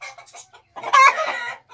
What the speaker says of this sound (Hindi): मुर्गी ने तो शोर मचाना शुरू कर दिया